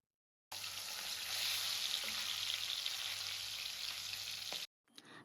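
Tilapia fish fries in hot oil over high to medium flame, giving a steady, close sizzling hiss that holds for about four seconds with faint spatter, then stops abruptly before a brief quieter burst.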